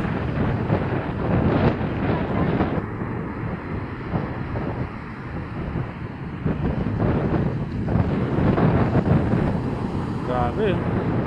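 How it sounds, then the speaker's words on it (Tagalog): Strong typhoon wind buffets the microphone on the seashore at Belison, Antique, roaring and gusting in surges over the wash of large waves. "Malakas ulit yung hangin guys."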